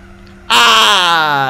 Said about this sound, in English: You can hear those tyres squealing.